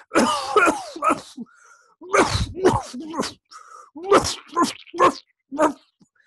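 A voice imitates a cough, giving a series of short, rough hacking bursts separated by brief pauses.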